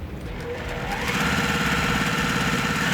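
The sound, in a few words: sewing machine stitching quilt block along diagonal line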